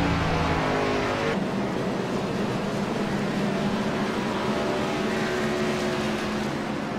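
A car's engine hums steadily as it rolls into pit lane at Daytona during a special racing event, with a continuous, fairly loud drone and no pauses.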